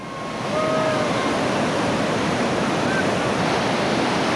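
White water rapids roar on the Lower New River in West Virginia as a raft drops in, a loud constant rush of churning water filling the whole clip.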